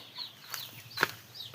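Faint, sparse clucks and small peeping calls from chickens, a few brief notes scattered over a quiet background.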